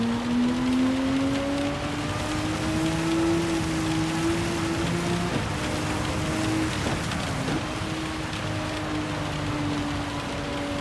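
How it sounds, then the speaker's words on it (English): Rain hisses steadily in a sim racing game with a Porsche 911 GT3 RSR, a constant wash of rainfall under a droning race engine whose pitch rises and dips with gear changes. "Ooh, racing in the rain."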